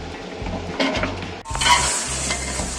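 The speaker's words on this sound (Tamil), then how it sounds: "இப்போ நம்ம சிக்கன் சேர்த்திக்கலாம்" Two kilos of square and leg chicken pieces, for a seeraga samba chicken dum biryani, tumble into hot frying masala and get stirred, the sizzle flaring loudly as the meat lands, with spoon scrapes throughout.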